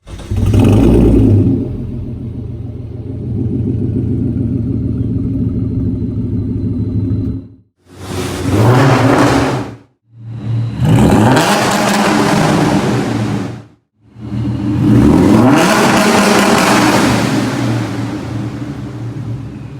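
A Ford Mustang engine revs loudly in several long bursts through an aftermarket exhaust, with a deep throaty rumble and brief quiet gaps between pulls.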